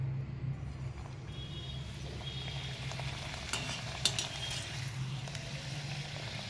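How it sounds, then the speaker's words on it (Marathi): Karanji pastries deep-frying in hot oil, a steady low bubbling sizzle with light crackles and occasional sharper pops, close by and continuous with no talking. "करंजी तळून घेऊया।"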